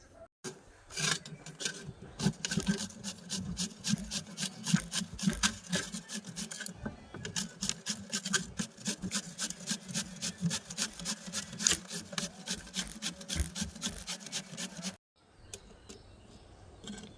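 A peeled mango is rubbed over a kitchen grater in quick, rhythmic rasping strokes, close and fairly loud for about fifteen seconds before stopping abruptly, with no talking.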